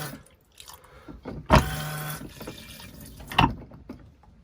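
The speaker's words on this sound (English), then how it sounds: "when you want to flush it, it's just a button on here, so you just give that a couple of squirts" Two short splashing rushes of water, about two seconds apart, come from the push-button flush of a cassette toilet in a 2001 Swift Archway caravan. They are close and fairly loud over a quiet background.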